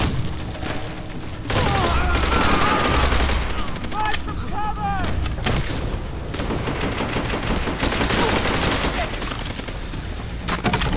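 Dense gunfire in the World War II shooter Call of Duty: World at War, with rapid machine-gun bursts, rifle shots and thudding blasts in a chaotic battle mix, loud throughout.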